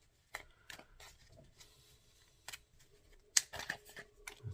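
A deck of playing cards being shuffled with scattered soft riffles, taps and crisp flicks, quiet and close, with a brief sharper burst of card snaps near the end and no talk.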